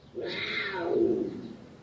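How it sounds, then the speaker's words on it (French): A single drawn-out jaguar growl-like call with a rising then falling tone, fairly close and moderately loud, heard alone without talk. "Voici un son de jaguar."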